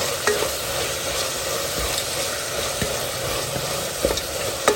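Greens, including fenugreek leaves, sizzle steadily in a pan while a utensil stirs them, scraping and clicking at irregular intervals close by, with no talking.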